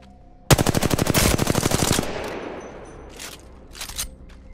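Automatic weapon fire in the video game Apex Legends: a loud rapid burst of about fifteen shots fades into a ringing tail, followed by a couple of fainter distant bursts.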